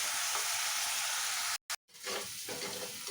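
Onions sauté in a pan for a crab roast, giving a bright, steady sizzle that cuts out briefly twice before the frying hiss resumes, close and unaccompanied by speech.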